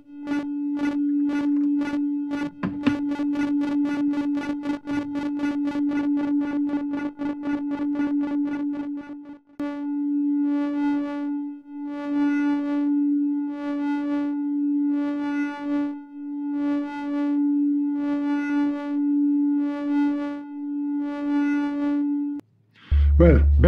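Behringer Neutron synthesizer oscillators droning a steady low pitched tone with bright harmonics, first pulsing rapidly, then swelling in repeated even phrases as the wave shape morphs, loud and close with no talking.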